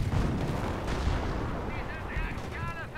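In a World War II tank and infantry battle game, mortar impacts and gunfire boom and rumble in a dense, continuous barrage, with a voice speaking faintly over it.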